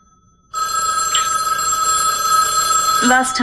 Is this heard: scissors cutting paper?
no